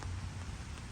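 Heavy rain falling outdoors, a dense, even hiss of drops on surfaces that continues steadily and softly without pause.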